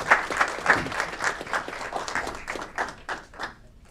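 A crowd applauds steadily at a city council meeting, dense clapping from many hands filling the room with no voices over it.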